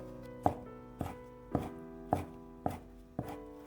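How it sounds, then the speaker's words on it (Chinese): A knife chops sausage into thin strips on a board in six evenly spaced, crisp thuds, close and distinct over a quiet background, with no talking. "准备孩子们爱吃的香肠，给它切成薄片，再改刀切成细丝"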